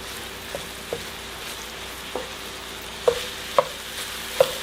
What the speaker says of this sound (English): So we're going to cook these vegetables until they're about crisp.